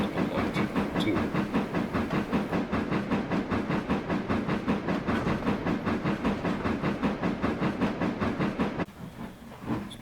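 Steam locomotive number 255 of the Spokane Falls and Northern in a Trainz rail simulation, chuffing in a steady, regular exhaust beat with hiss over it, loud and close for about nine seconds before it drops away abruptly.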